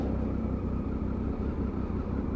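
Triumph Tiger 955i triple-cylinder motorcycle engine purring at low speed while riding, a steady smooth low rumble close by with faint road and wind noise and no talk.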